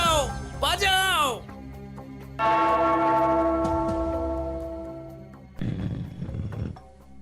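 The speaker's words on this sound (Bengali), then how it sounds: "ওই ঘন্টাটা বাজাও, বাজাও" A bell rings in a Gopal Bhar cartoon, with long, resonant metallic tones that sustain and slowly fade. Cartoon voices and a roar-like sound come before and after it.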